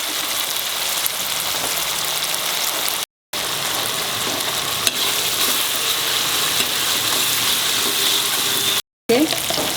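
Dried shrimps frying in a pan with a little salt as a seasoning base, a loud, steady broadband sizzle that carries on almost without pause, broken only by two brief silent gaps.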